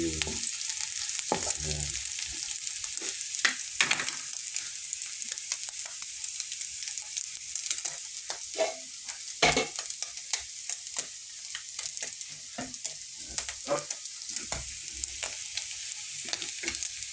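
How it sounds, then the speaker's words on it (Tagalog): Ground meat sautés in a pan, a steady broad sizzle with repeated scraping stirs of a spatula throughout; a voice speaks briefly near the end. "Gisa lang natin yung para pumula yung ating giniling."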